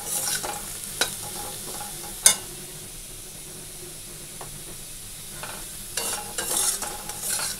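Potatoes frying in a pan with a soft sizzle underneath, broken by several sharp scraping and clacking stirs of the utensil against the pan, a louder flurry of stirring near the end.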